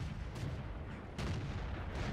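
A tank's main cannon fires in World of Tanks, an A-44 duelling a Churchill 1: a dense, booming battle bed with a couple of sharp, heavy blasts standing out, near and loud.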